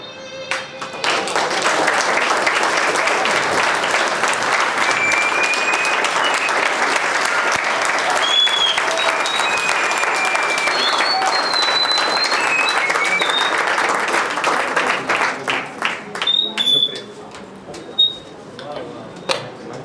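Sustained applause from a seminar audience on children's literature fills the room for about fifteen seconds, steady and dense, then thins into scattered claps and fades out.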